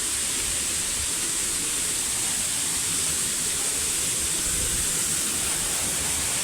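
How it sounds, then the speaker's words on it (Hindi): A waterfall beside a bathing pool at Apsara Vihar in Pachmarhi, a steady broadband rush of falling water, even and continuous, with no voices. "इसके बाजू में ये एक झरना है"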